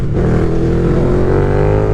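KTM Super Duke 1290R motorcycle engine, loud and close, growling and rising in pitch as the throttle is blipped over two seconds.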